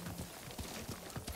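A horse's hooves clip-clop in a steady riding rhythm in the video game Ghost of Tsushima, quiet and close with no voices over it.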